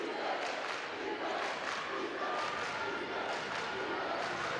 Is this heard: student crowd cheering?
yes